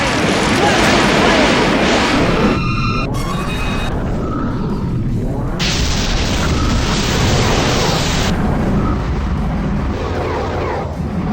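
A Searing Fire spell detonates in the Grandia 2 video game, a loud booming burst with crackling, roaring bursts and sharp tonal effects that swell and cut out over several seconds, dense and close throughout.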